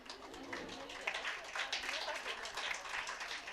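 A hall audience claps at an International Women's Day gathering, a dense, steady wash of many hands that holds at an even level throughout without any talking.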